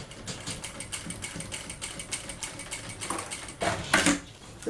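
A sewing machine runs a quick holding seam on a mermaid-themed fabric pouch kit, a steady rapid mechanical stitching rattle close by, growing louder and sharper in the last second.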